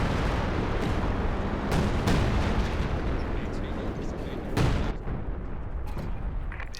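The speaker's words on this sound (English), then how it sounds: "Dropping some 105 artillery down." 105 artillery barrage in Company of Heroes 2, a dense continuous rumble of explosions and booms with a few sharper blasts standing out, loud and sustained throughout.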